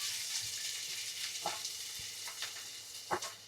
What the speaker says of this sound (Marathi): आपण जो कांदा चिरलेला ना तो आपण याच्यात टाकून घेऊया